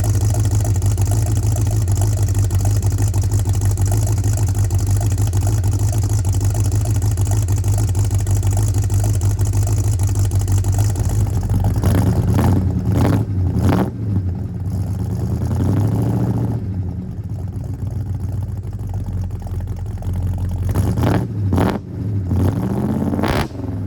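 A 1958 Plymouth barn-find engine running through 2.5-inch Flow Effects mufflers, a loud steady deep rumble for about twelve seconds, then several sharp revs with rising and falling blips and a lumpy idle between them.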